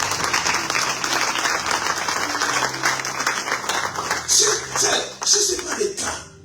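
Church congregation applauding the Lord during a French-language service, a steady dense wash of clapping across the room that swells briefly near the end, with some voices mixed in.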